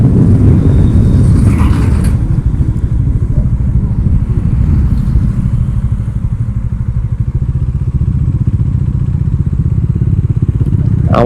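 A 400cc motorcycle ridden at dawn gives a loud, steady engine drone with heavy wind rumble that stays constant and close the whole time, with occasional faint clatter.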